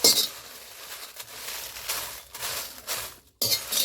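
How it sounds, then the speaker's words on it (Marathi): Dried chillies dry-roasting in an Indian kadhai (wok) for a year-round masala, small handfuls at a time: a steady crackling, rustling patter with light scrapes and clinks against the metal pan, close and fairly quiet, with no talking. "आता सगळं मिरच्या भाजून घेणार."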